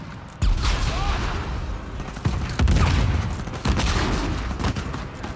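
Dense, sustained gunfire from a gun in the Uncharted 4 video game, loud and continuous with repeated sharp bursts and booms throughout.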